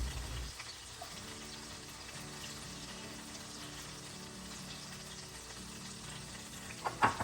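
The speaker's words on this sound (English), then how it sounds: "Now once my shrimps are completely fried, I'm going to add a little more oil to the pan" Shrimp fry in oil in a pan, a soft steady sizzle that runs throughout at low volume, with a few sharper spatters and clinks near the end and no talking.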